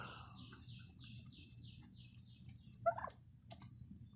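Pet turkeys, with young birds among them, gobble and call faintly in short irregular bursts over a low steady background hum.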